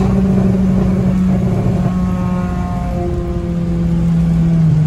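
A Renault Clio 3 RS Cup engine revs hard nearby, a loud sustained droning note that climbs and holds with steady harmonics, no voices.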